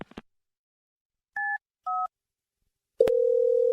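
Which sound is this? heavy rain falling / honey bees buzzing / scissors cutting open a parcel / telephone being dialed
telephone being dialed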